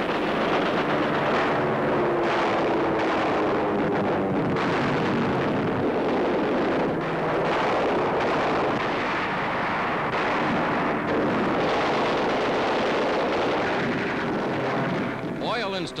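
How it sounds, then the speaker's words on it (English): Aircraft diving on an airstrip during a 1944 wartime raid, with bomb blasts, carried by a dense, loud rumble of engine roar and explosions. The din runs continuously under a newsreel narrator's voice. "Americans dive-bomb the airstrip."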